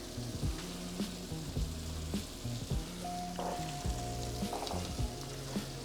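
Sausage, onions, peppers and potatoes fry in oil with a steady close crackling sizzle, punctuated by a few brief clanks of a utensil against the pan and a low hum behind it.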